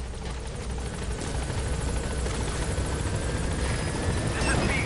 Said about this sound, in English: Let me call the chopper.